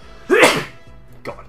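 A single loud sneeze bursts out close to the mic, followed about a second later by a second, smaller sneeze, with a brief spoken word between them.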